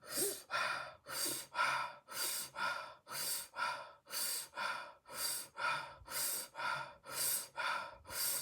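Deep rhythmic breaths, roughly a dozen strong inhale-exhale cycles, come close and loud in a steady pace during a breathwork exercise, with no talking.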